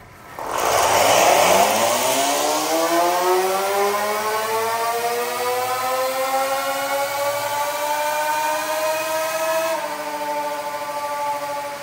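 An electric dirt bike motor in a Sur-Ron class machine revving to high RPM, a loud whine that climbs steeply, then holds at a screaming pitch for several seconds before dropping slightly near the end.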